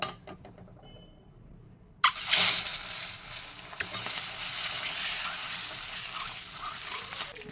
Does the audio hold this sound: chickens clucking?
no